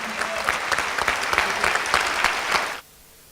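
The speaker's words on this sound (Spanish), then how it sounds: "Fuerte el aplauso para el compañero Carlos Tomada." Conference audience at the closing ceremony of an international congress on violence-free workplaces claps in loud, dense applause for about three seconds, then cuts off abruptly into near silence.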